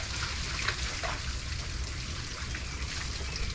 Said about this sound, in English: No, first, turn down the water.